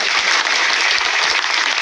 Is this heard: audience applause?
yes